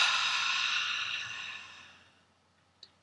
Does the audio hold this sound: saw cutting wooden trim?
no